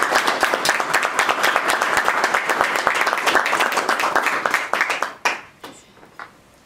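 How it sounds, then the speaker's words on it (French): Audience applause at a tribute in the French National Assembly: dense, sustained clapping from a large room that thins out and dies away into a few scattered claps near the end. "Donc je voudrais vraiment qu'on l'applaudisse."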